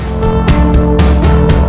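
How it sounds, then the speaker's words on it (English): Unfiltered music plays loud and full-range, with a sustained harmonic tone and regular sharp percussive hits about every quarter second, and no voices. "this is a sound of a music with no filter on."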